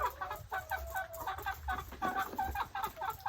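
Farm-raised chickens cluck repeatedly in a quick, uneven run of short calls, close and moderately loud over a low background rumble.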